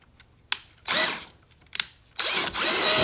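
A power drill spins a cleaning attachment on carpet in two bursts, each starting with a sharp click and followed by a steady whirring scrub. The drill runs close and fairly loud, with quiet gaps in between.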